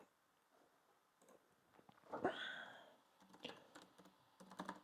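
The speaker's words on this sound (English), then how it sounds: "So if I type in on Google now," A search being typed on a computer keyboard, a quiet run of light, quick key taps broken by a few louder clacks partway through, close and with no voices.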